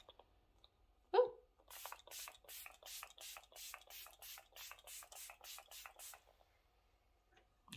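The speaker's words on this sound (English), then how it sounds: "this is a very good setting spray from the drugstore." A drugstore makeup setting spray mists the face in a fast run of about a dozen short, even pumps, each a crisp hiss, heard close and alone in a quiet room after a single louder click.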